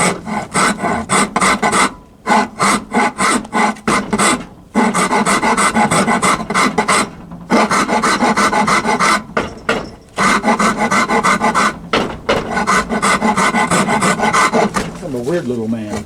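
A rasping file worked over wood to taper it, with repeated strokes running nearly continuously and loud, broken by a few short pauses.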